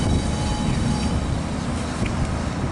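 GE ET44AC diesel locomotive hauling a freight grain train onto a spur, a steady low rumble heard from nearby and continuing without break, with faint high squeal-like tones above it.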